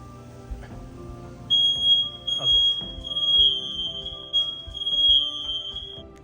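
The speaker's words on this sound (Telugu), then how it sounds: "అయ్యింది కదా అని తీసి బయట పెట్టంగానే ఆ ఫైర్ అలారం మోగింది" A kitchen smoke alarm goes off while vegan chicken nuggets fry, emitting a steady, piercing high beep that holds for several seconds over clattering pans and people talking nearby.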